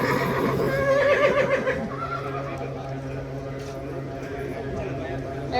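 A horse whinnies at a horse sale, its neigh rising over steady crowd chatter and nearby voices, with faint clip-clop and general barn bustle underneath.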